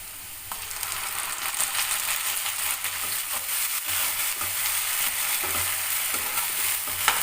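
Tomato paste is stirred into onions frying in a pan for a fish gravy (sankara meen kulambu), giving a steady close sizzle with repeated stirring scrapes and no voices.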